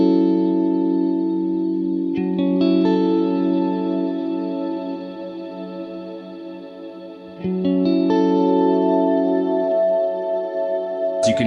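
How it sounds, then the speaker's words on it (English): An electric guitar played through a Line 6 Helix with a 12-string pitch-up effect rings out in sustained, shimmering chords with bright upper octave harmonics, struck twice with long swells, loud and alone. "I'm going into the 12-string pitch up."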